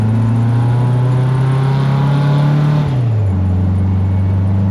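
A rebuilt Volkswagen Kombi van engine idles loudly and close with a steady droning hum, its pitch dipping slightly near the end as it settles to a lower idle.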